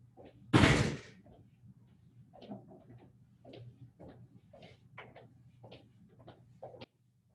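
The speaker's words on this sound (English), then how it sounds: "I'm going to shut that door now." An indoor door is shut with one loud slam in a lab room, followed by faint scattered thumps and light room noises, with no talking.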